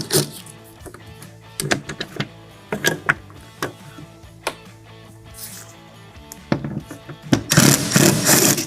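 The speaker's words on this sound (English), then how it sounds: "These are the last 2 bolts that are physically holding this in. We're going to go ahead and remove those with an 8mm." Bolts backed out with an 8mm wrench while removing a vehicle tail light, giving a run of sharp metallic clicks and ratcheting taps at irregular intervals, ending in a louder burst of rattling and scraping.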